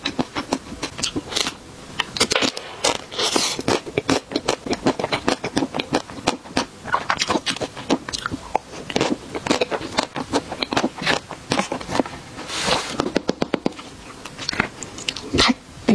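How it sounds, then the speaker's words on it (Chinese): Crunchy fruit-shaped cakes bitten and chewed up close, a dense run of sharp crisp crackles and snaps in uneven bursts, loud and near, with no talk over it. "这款吃起来好脆。"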